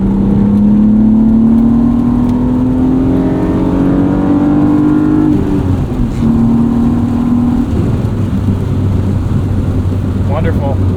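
A 1998 BMW E36 M3 sedan engine drones loudly at high revs, its note rising steadily and then changing pitch just above 5,000 RPM, with a faint voice underneath.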